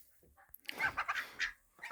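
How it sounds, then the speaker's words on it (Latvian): Farm poultry, chickens and ducks kept together, make several short honking calls that sound faint and a little distant, with quiet gaps between them. "Pagaidām vistas ar pīlēm mums ir kopā."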